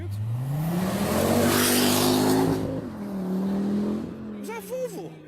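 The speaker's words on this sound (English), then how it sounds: "It's a noisy Volvo, that." A noisy Volvo car revs its engine loudly and close by, a steady rising drone that holds then dips and surges again, with people talking over it.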